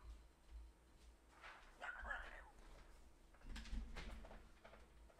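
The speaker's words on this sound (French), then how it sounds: "C'est un chien qui est mort." A dog gives a couple of faint, distant yips and whimpering barks in a quiet interior, with soft rustles and speech around them.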